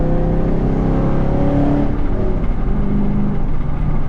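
A 5th-generation Chevrolet Camaro SS fitted with long tube headers revs loudly and close by, its V8 rising and falling in a deep, continuous roar throughout, with no talking.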